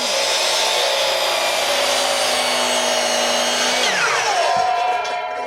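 A sliding compound miter saw spins at full power and is pulled down through a board in a single pass, giving a loud, steady motor whine that holds, then drops in pitch as the blade slows near the end.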